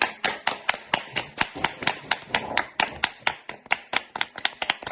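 Close, steady hand clapping, roughly four claps per second, crisp and rhythmic with no voices.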